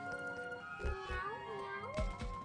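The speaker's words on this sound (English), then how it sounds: "Meow. I have a cat, guys." A cat meows in a drawn-out, rising and falling call lasting about a second, close and clear, over steady background music and ambience.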